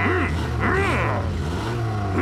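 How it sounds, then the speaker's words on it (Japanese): A cartoon vehicle's engine revs in a Tayo the Little Bus episode, a loud rumbling roar with rising and falling swoops, close up and dominant. "俺のエンジンは超パワフルだ"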